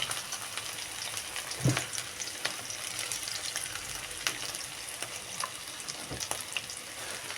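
Small cut pieces frying in a pan over a high gas flame, giving a continuous close crackling sizzle with occasional sharper pops and spatters, and no talking.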